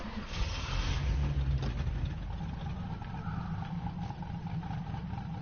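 Custom truck engine idling in the SnowRunner off-road game, a low steady rumble heard faintly at a distance with a slight hum running over it.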